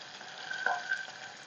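Chopped onions and green chillies sizzle in a hot pan, a faint, steady frying hiss with small crackles and a brief stir, heard alone.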